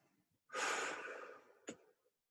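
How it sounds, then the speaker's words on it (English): A single long, slow out-breath in a children's mindfulness breathing exercise, a soft airy exhale up close that fades away, ending with a brief sniff or mouth click. "So breathe in for 3 and hold. Breathe out"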